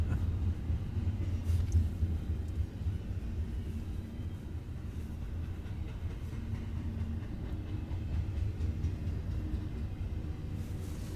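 A Norfolk Southern westbound train rolls past at modest speed, a steady low rumble of railcars and wheels that holds throughout with no voices.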